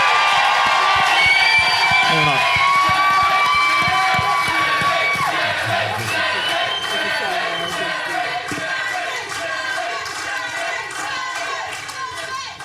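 Crowd cheering and shouting at a live rugby club show at Bannockburn RFC, a loud, sustained roar with high voices and whistles that eases slightly toward the end, with a voice speaking briefly over it.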